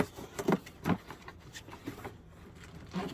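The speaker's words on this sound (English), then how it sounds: "Let's unbox this." A Camco 39625 Revolution 20-foot sewer hose kit being unboxed, with close, irregular crinkles, thumps and rustles of packaging coming in short bursts, fairly quiet and with no talk.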